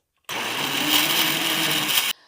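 A blender purees onion and garlic with water, one loud continuous motor whir of about two seconds that starts and stops abruptly.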